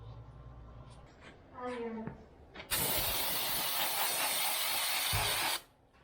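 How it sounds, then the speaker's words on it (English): Brake cleaner sprayed onto the painted engine of an old show car, a loud steady hiss lasting about three seconds after some faint mechanical clicks and handling noises, then cutting off abruptly. "brake cleaner's the trick"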